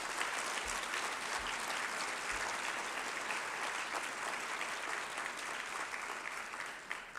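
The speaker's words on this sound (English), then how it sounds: "can we just give a round of applause for our students as well?" Applause for students at a scholarship luncheon: a room full of people clapping steadily for about seven seconds, even and sustained, tapering slightly near the end with no voices.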